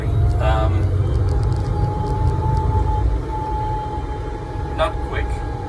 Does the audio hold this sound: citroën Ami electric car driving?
yes